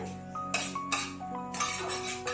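A spoon stirs whole cloves in a cooking pan on a gas stove, making light metallic clinks and scrapes over a steady, tonal background hum.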